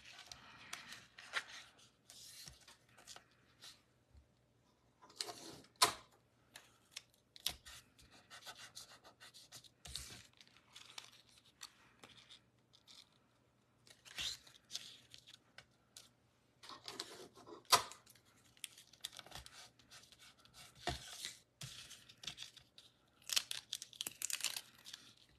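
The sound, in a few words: tape being torn and applied to paper card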